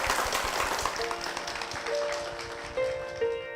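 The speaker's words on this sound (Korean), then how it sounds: "귀한 간증 들려주신 우리 변재란 장로님과 그 가정에 여러분 큰 박수 부탁드립니다." Congregation applauding in a church during a broadcast service, a dense continuous patter of clapping, with sustained organ or keyboard tones entering and swelling underneath toward the end.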